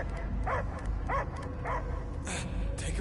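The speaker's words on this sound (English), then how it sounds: "I hear only barking." A dog barks in the Guardians of the Galaxy video game, several short bursts spaced roughly half a second apart over a steady low rumble, with a brief voice near the end.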